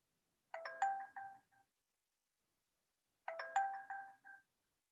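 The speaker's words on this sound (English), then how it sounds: "we only get one notification saying, please keep your phone inside your pocket" A phone notification chime plays twice, identical bright multi-note alerts about three seconds apart, clean and alone against silence.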